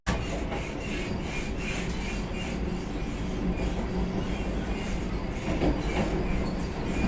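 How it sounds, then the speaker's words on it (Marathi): A Vande Bharat express running at speed between Nellore and Tirupati gives a continuous interior rumble with rhythmic clickety-clack of wheels on track and occasional faint squeal, steady and fairly quiet throughout. "आणि आता गाडीनं स्पीड पकडलेला आहे आणि बरोबर इथून निघालेली आहे 12:35 नेल्लोर रेल्वे स्टेशनहून."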